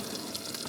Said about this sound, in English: What we're going to do now is add a tiny bit of water,